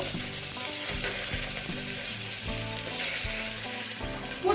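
Chicken pieces shallow frying in hot oil in a pan, a steady bright sizzle with crackles and occasional stirring clatter, close and continuous without talk.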